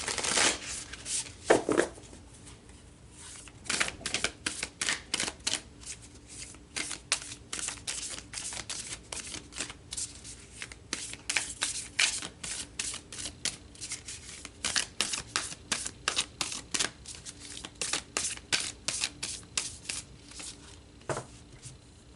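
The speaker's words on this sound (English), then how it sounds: "So let's pull some more cards about this soul contract." Tarot cards are shuffled nonstop at close range, a long run of quick crisp riffling bursts with short pauses between them and no talking.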